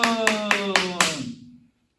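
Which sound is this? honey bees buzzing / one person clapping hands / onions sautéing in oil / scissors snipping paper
one person clapping hands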